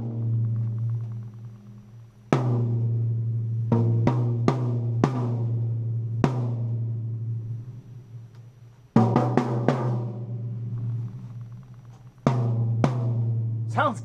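A restored vintage drum with a reshaped bearing edge is struck in sharp, resonant hits, some single and some in quick clusters, each ringing out over a steady low hum.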